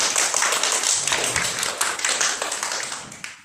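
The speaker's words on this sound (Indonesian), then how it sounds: "Tepuk tangan untuk kelompok 1" A fourth-grade classroom claps for a group after its presentation in a Qur'an and Hadith lesson, a dense burst of children's hand claps that thins out toward the end.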